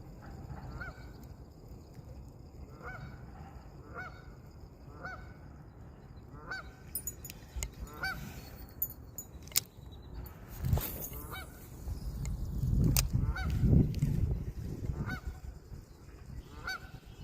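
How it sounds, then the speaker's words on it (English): A goose honks repeatedly at a creek, a steady series of moderately loud calls at regular intervals, with a louder cluster of honking and rustling near the end; no one speaks. "That goose is like making a lot of noise and looking at me."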